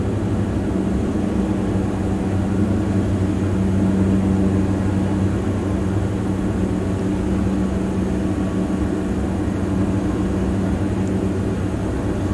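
The propeller engines of a Diamond DA-42 airplane hum in a flight simulator game, giving a loud, unbroken low drone at reduced power with no voices over it.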